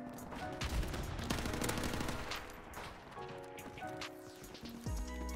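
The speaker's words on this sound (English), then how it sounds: "That airstrike streak is annoying, dude. It is literally non-stop bombardment." Non-stop airstrike bombardment and gunfire in Call of Duty Modern Warfare Remastered multiplayer: dense, faint rattling bursts and booming blasts, constantly overlapping, with a brief voice in places.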